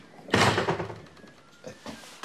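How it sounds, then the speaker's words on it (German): A door is shut as someone walks out, giving one loud, close thump followed by softer knocks and rattles fading off, with no talking. "Der Florian ist gerade raus zur Tür"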